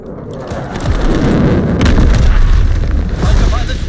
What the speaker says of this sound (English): Launching V2 rocket.